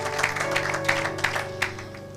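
A church congregation at a Sunday service claps in a steady rhythm, the bursts of clapping mixed with music or singing.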